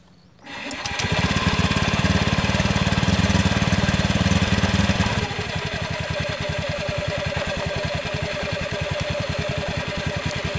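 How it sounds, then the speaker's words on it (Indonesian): A repaired motorcycle engine catches after a short crank, revving loudly and rough for several seconds before settling into a steady, slightly clattering idle that runs on alone. "kita coba hidupkan motornya"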